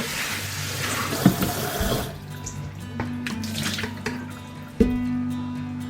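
Water runs from a tap for about two seconds while bean sprouts are watered, a broad steady wash that then stops, leaving quieter room sounds and a few small knocks.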